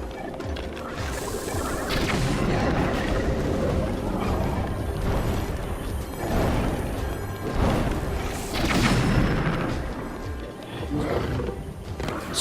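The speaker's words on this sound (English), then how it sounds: "Lionels may be tough, but they can't take an explosion to the face." Thunderous blasts and crashing rumble from explosions tearing into Lynels in Zelda: Breath of the Wild, loud and dense throughout with repeated booming surges and roaring game effects layered over one another.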